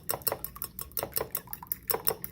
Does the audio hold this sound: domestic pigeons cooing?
no